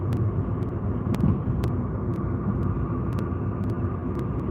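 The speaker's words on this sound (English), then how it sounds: "With some takeoffs now from the Heathrow Hotel." An aircraft taking off at London Heathrow gives a steady, distant engine roar and low rumble that holds evenly throughout, with a few faint clicks on top.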